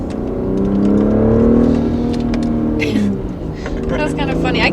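A BMW X5 engine with an upgraded intake revs up and holds a steady, throaty roar, then eases and climbs again, loud and close, with voices talking over it.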